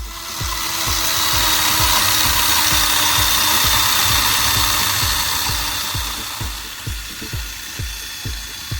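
An overloaded brushed DC motor driving wheels runs with a steady, loud grinding whir, then settles into a rhythm of regular low knocks as it labours and slows.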